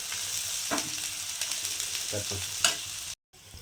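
Large onions fry on medium heat in a pan for a street-style mushroom dish, giving a steady close sizzle with a few scraping stirs and no one talking.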